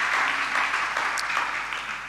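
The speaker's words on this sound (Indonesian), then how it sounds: "Beri tepuk tangan bagi dia." A church congregation claps in a short, dense burst of applause that is fairly loud and fades slightly at the end.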